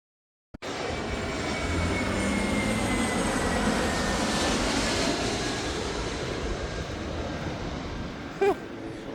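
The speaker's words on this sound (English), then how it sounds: "Plane just flew like right along next to us." An airplane passes close alongside walkers outside Hilo, Hawaii, its loud, steady engine roar sweeping in abruptly and holding for several seconds as it flies past.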